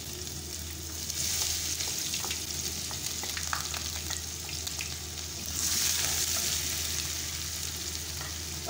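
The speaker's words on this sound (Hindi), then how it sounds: "अब मैं ये इसमें प्याज डालूंगी। ऑयल गर्म होगा" Onions drop into hot oil and fry with a continuous, crackling sizzle heard close up. It flares louder partway through, then settles back to a steady fry with no voices.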